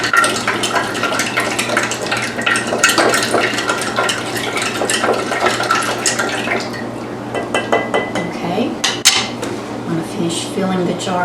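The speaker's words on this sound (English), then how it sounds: "Filling the jar up with water." Water runs and splashes into a glass jar amid clinks of dishes and utensils, with a steady background hum throughout.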